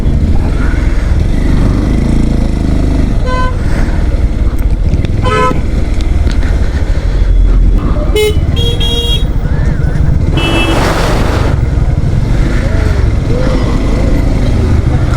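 Stalled road traffic on the Hyderabad to Srisailam route, with cars, motorcycles and a bus, and several sharp horn toots and honks over a constant engine rumble while someone talks nearby.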